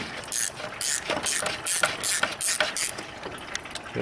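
A ratchet wrench clicks rapidly and steadily while a bolt is unscrewed on a BMW N55 engine, a close, bright train of metallic ticks with slight variation in pace.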